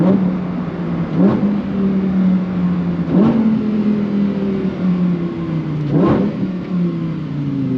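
A Lamborghini engine revs hard while accelerating, its loud tone climbing and then dropping sharply at each of three gear shifts. The car is heard up close with no voices.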